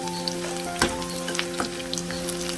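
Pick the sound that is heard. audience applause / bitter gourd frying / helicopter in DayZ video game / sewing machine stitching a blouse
bitter gourd frying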